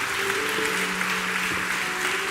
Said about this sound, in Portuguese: Dá uma salva de palmas pela vida dela.